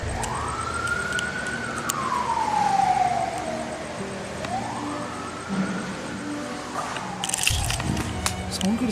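An emergency vehicle siren, ambulance or police, wails in long rising and falling sweeps over traffic noise, moderately close and then fading.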